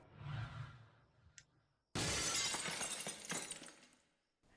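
A TV screen shatters in the video game Duck Season: a loud burst of breaking glass erupts after a brief quieter stretch, its crashing debris ringing on for a couple of seconds before cutting off.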